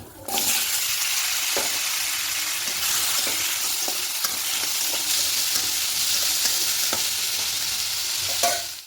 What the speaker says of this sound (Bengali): এবার এখানে কেটে রাখা এই আলুটা দিয়ে দেব